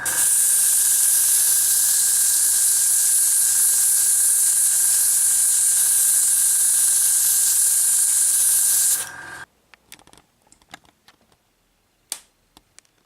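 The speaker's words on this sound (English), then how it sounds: "I'll try with the compressed air can again." A compressed air can blasts dust out of an old overheating laptop in one loud, continuous hiss of about nine seconds, then stops abruptly, followed by scattered small clicks and taps.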